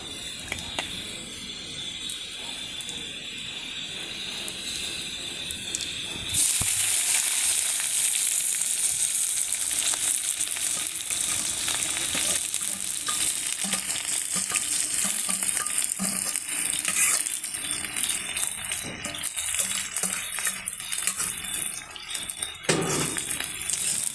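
Food with cumin frying in a pan while being stirred: a quieter hiss at first, then a sudden louder, dense sizzle with scraping stirs and a few light clinks, close and steady.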